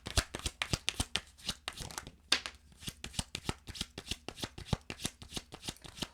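Tarot cards dealt out one after another for a reading spread, giving a quick run of crisp, close card snaps and slaps in a steady, fairly even rhythm with no voices over them.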